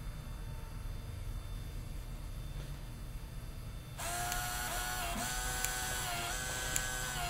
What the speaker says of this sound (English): The printer now starts printing,